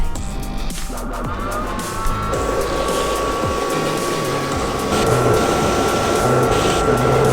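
Vinyl cutter cutting decals, a continuous loud motorised whir with rising and falling tones and a sustained whine, steady throughout with no speech.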